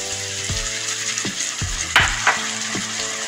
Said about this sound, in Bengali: আলুটা ভাজা ভাজা হয়ে গেছে, মশলাটার মধ্যে দিয়ে দিচ্ছি।